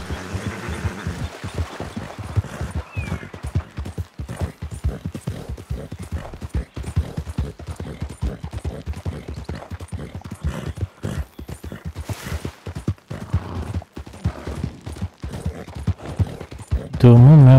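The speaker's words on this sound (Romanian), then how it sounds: "Bă, dar aleargă calul ăsta, nu glumoiesc" A horse galloping in the Western role-playing game RedM, its hooves pounding in a fast, steady clip-clop rhythm, close and prominent throughout, with someone talking over it.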